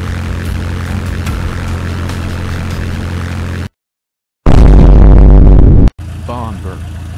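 Droning propeller engine of a bomber aircraft in the Midway video game, loud and steady, cut by a sudden gap of silence, then a harsher roaring burst and a return to engine noise.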